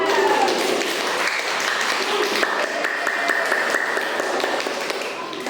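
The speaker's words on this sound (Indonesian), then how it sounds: "Beri aplaus untuk Syahda." A classroom group claps for a student during a teaching practice session, a sustained burst of applause at moderate distance that slowly fades toward the end.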